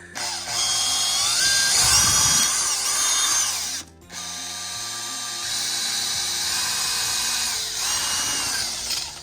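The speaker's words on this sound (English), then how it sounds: "take your 11/34 drill bit and drill right next to the pre-existing brace for it" A high-pitched power drill with an 11/34 bit whirs steadily while drilling into a 1/16 Bruder CAT skid steer model, briefly cutting out before spinning up again, close and loud with no talking.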